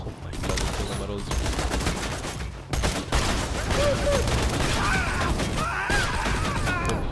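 Rapid bursts of gunfire in the video game Borderlands 2, with repeated shots and clatter over busy in-game sound effects across the whole stretch.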